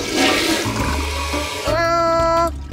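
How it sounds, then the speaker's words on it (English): A toilet flushes loudly with a rushing gush of water, and a tonal refill whine sets in partway through as the tank refills, close and without speech. "Flush the toilet."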